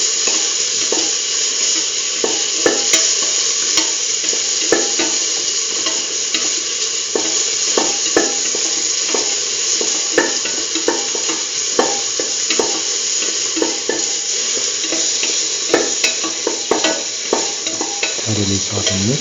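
Tomato pieces sauteed and stirred in a pan for a beetroot chickpea dip, with steady sizzling and frying under repeated scraping stir strokes, close and continuous, no talking.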